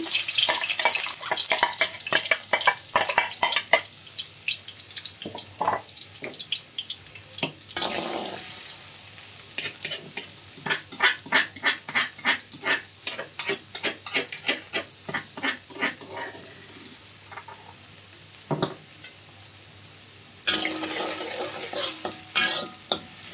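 Holland onions sautéed in a pan for a simple Maggi martabak, with a long run of rhythmic scraping and stirring strokes over a low sizzle and a few short bursts of running water, close and fairly quiet.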